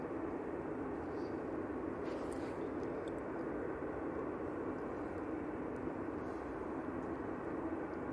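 An Aer Lingus airliner passing at Manchester Airport, heard as a steady, fairly faint broadband engine roar with a few brief sharper sounds layered on top.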